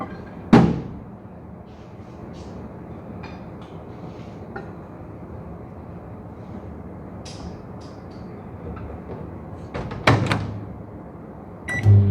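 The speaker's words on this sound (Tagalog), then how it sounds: "Tapos ilagay ko lang muna sa microwave para mag-melt siya." A microwave oven runs with a steady low hum while melting cheese for a homemade burger, with a door thud at the start and a couple of clunks and beeps near the end.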